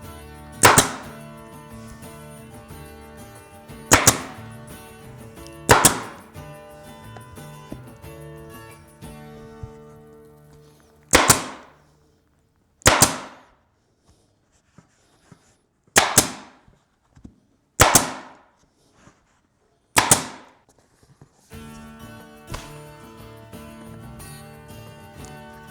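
A staple gun fastening a SAAD seat cover onto a BMW R1300 GS Adventure seat fires about eight sharp, loud clacks. They come at uneven intervals over faint steady background music.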